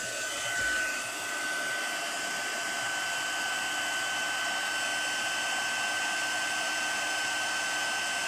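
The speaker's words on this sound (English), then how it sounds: "I'm going to heat emboss that one again" Heat embossing tool held under stamped cardstock, blowing a steady close whirring hiss with a high whine that runs unbroken for the whole stretch, no talk.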